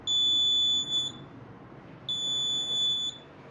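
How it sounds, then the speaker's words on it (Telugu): Electronic buzzer on a homemade smart glove for the blind, sounding when an object is placed near it: two shrill steady high-pitched beeps, each about a second long, separated by a short quiet gap. "ఇలా పెడుతుంటే మనకి బజర్ సౌండ్ ఇస్తుంది"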